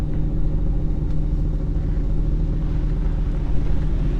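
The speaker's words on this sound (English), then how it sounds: "Okay, drive it forward and backwards a little bit and see if you're good." A vehicle creeping forward and backward on a salt-crusted flat, a steady low engine rumble at close range throughout with no clear revving or talking.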